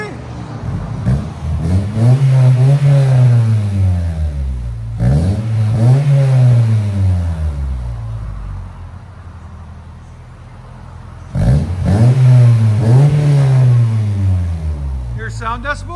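A 1997 Honda Prelude 2.2L running headers and a Skunk2 Mega Power cat-back exhaust revs hard in two bursts of rising, falling throttle pulls, separated by a quieter stretch of idle, loud and up close.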